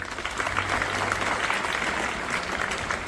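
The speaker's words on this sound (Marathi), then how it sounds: "याच्याकरता एकदा जोरात टाळी वाजवा" A hall full of high-school students claps loudly together in a school assembly, a thick, even burst of applause held steadily for a few seconds with no voices over it.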